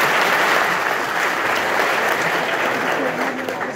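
A university audience at Alioune Diop University of Bambey applauds during a rector's speech, a dense, loud, continuous wash of clapping with no voices over it.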